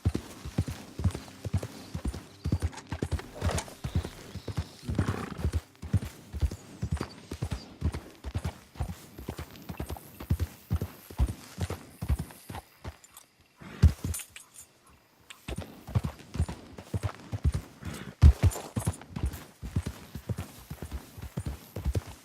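Horse hooves clip-clop steadily in Red Dead Redemption 2 at Clemens Point, a continuous rhythmic trot with occasional bridle jingles and a brief lull partway through.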